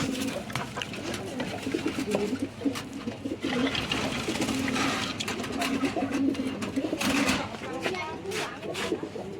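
A male pigeon, just paired with a female, calls with loud, repeated throaty coos while someone talks over and between the calls nearby.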